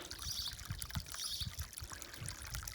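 Hot water at 50 degrees flows and trickles out of a pipe outdoors for garden watering, a faint, continuous splashing with small gurgles and a soft hiss, heard on its own.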